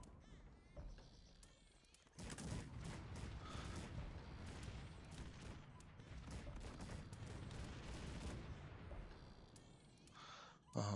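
Dense, continuous barrage of booming cannon fire in the strategy game Cossacks 3, many overlapping shots rolling together for several seconds with a clatter of mechanical noise.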